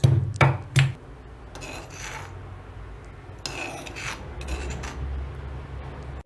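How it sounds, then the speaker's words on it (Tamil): Seven garlic cloves pounded close by: a few dull knocks at the start, then steady rasping, grinding crush strokes with no voices. "ஒரு 7 பல்லு பூண்டு எடுத்து நல்லா இது மாதிரி இடித்து வச்சுக்கோங்க"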